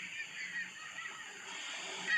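Harsh, nasal squawks from a group of gulls overlap continuously, faint and somewhat distant, with no voices.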